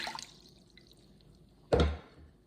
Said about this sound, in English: So to my stand mixer, I'm going to add a cup of warm water,